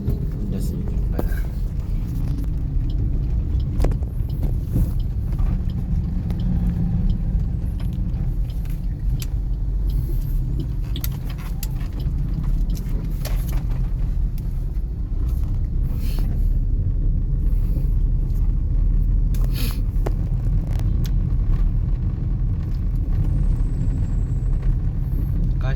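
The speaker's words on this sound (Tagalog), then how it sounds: "sobrang daming sobrang traffic ngayon sa Daig" Car interior rumble while driving through heavy traffic in Daig, a steady loud low engine and road drone lasting throughout, with people talking over it.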